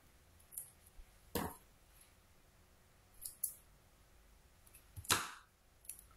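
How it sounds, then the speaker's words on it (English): Scissors cut a piece of paper in half during card-making crafts, heard as a handful of crisp, sharp snips spaced irregularly over a few seconds, close by and fairly quiet, with no talking. "We're going to cut this one in half."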